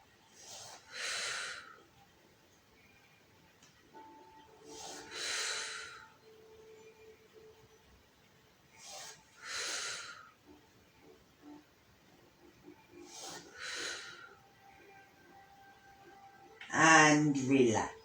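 Slow, deep breaths during an adapted yoga exercise, four long audible exhales and inhales spaced several seconds apart, close and breathy, ending with a brief burst of speech.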